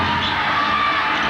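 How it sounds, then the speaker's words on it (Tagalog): Basketball crowd at a 1996 Governors Cup semifinal between Ginebra and San Miguel Beer roars in a dense, continuous wall of cheering and shouting, loud and close throughout. "Crowd here in an uproar."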